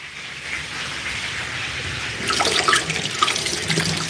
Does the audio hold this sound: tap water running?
yes